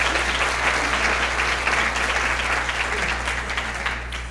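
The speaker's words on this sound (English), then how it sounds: "can we give him a big round of applause for that as well?" A luncheon audience at a Teacher of the Year event breaks into steady, dense applause that holds throughout, close and loud, with a constant low hum running underneath.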